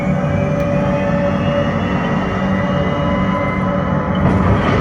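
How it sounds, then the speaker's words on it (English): Spacecraft thrusters roar steadily in a Mars simulator ride at a science museum, a loud, continuous rumbling drone with faint tonal whine and no break. "Looks like our thrusters decided to come back to life."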